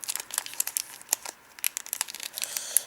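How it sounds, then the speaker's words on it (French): Crinkly plastic wrapper of a sealed Pokémon TOPPS booster pack being worked open by hand, with a steady run of sharp crackles and crinkles, close and fairly loud, with no talking. "J'arrive pas à les ouvrir, c'est impressionnant."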